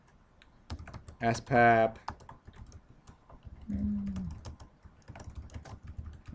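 Keys clatter on a computer keyboard as text is typed into an image editor, a loose run of quiet taps with a few brief spoken words over it.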